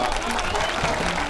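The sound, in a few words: crowd applause at Banaz Yörük festival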